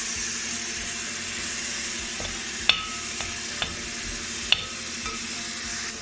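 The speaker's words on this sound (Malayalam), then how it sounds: "നമ്മൾ നേരത്തെ അടിച്ചിട്ടുള്ള തക്കാളി ജ്യൂസ് ഇതിലേക്ക് ചേർത്ത് കൊടുക്കാം." Tomato juice cooking into a frying chicken biryani masala in a pot, giving a continuous even sizzle broken by a few sharp taps of the stirring spoon, with no talking.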